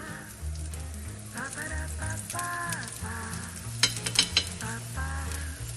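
An onion paratha sizzles on a hot tawa, a constant crackling fry punctuated by a few sharper scraping and tapping bursts near the middle.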